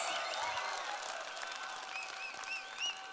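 Crowd at the Campus Party Europe main-stage opening applauding steadily, a dense wash of clapping with a few whoops and cheers rising over it, fairly distant and continuous throughout.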